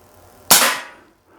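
A single sharp crack from a KWC TT-33 CO2 BB pistol firing a 4.5 mm steel BB, close and loud with a quick decay, in a quiet outdoor setting.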